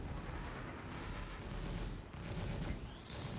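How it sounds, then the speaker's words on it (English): Ship lasers fire during a Star Citizen space battle, a dense stream of rapid shots that goes on without a break. It is loud and close, with a few brief dips and a faint high sweep near the end. "he's only got 2 lasers shooting at us?"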